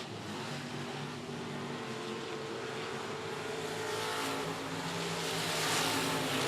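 Limited modified race cars roar around the 105 Speedway oval, their engines blending into a sustained, fairly distant drone that swells slightly as the pack comes closer.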